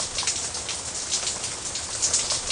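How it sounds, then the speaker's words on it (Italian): Rain falling on window glass during a thunderstorm, a dense continuous patter of drops with a steady, hissing texture, fairly close and loud throughout. "Ma la pioggia batte sui vetri e poi scivola via"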